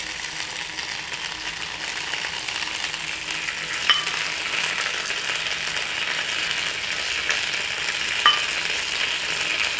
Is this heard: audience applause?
no